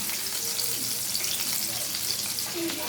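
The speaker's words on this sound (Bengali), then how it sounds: "এবার আমি এগুলোকে নামিয়ে বাকিগুলো ভেজে ফেলবো।" Small puti fish fry in hot oil, a loud, dense, continuous sizzle that fills the short stretch, with light stirring noises and no talk.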